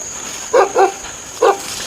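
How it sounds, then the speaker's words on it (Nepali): A dog barks on a mountain village path: two quick barks, then a single bark after a short pause, loud and fairly close over a steady background hiss. "कुकुरले करायो क्या?"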